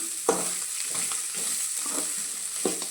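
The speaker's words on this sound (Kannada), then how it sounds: "ಈ ಕೊಬ್ಬರಿ, ಇದು ಕಾಯಿ ಎಲ್ಲನೂ ಎಣ್ಣೆಯಲ್ಲಿ ಫ್ರೈ ಆಗಿ ಸ್ವಲ್ಪ ಕೊಬ್ಬರಿ ಥರ ಆಗಬೇಕದು" Grated coconut frying in oil in a pan, a soft continuous sizzle broken by a few gentle stirring scrapes, heard close up with no speech.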